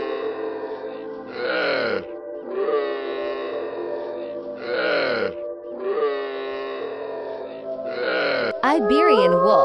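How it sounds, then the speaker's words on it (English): A dromedary camel gives repeated deep, guttural moans and groans, several drawn-out bursts separated by brief pauses, loud and near, with a rougher gurgling call at the end. "Dromedary."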